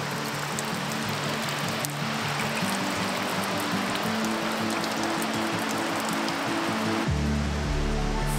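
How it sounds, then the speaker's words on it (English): Water seeping out of a coastal rock face in small trickling falls, a dense continuous splashing rush, loud and close, with no talk over it. "It's like seeping out of the rock. It's like mini waterfalls,"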